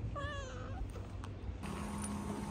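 A cat gives one drawn-out meow at the start in a stilt water village in Brunei, followed by low rumbling background noise.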